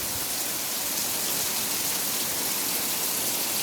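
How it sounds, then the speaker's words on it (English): Heavy rain pours down in a steady, dense hiss that holds constant throughout, close by and loud, with no voices. "Man, that is some serious rain."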